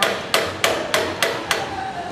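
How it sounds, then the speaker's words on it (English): A hammer strikes the knurled ring on a Graco FinishPro 395 paint sprayer pump, six sharp metallic blows at a steady, even rhythm, close and loud. "This is done in the field with a mallet or a hammer."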